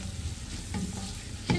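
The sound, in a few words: onions and peppers frying in butter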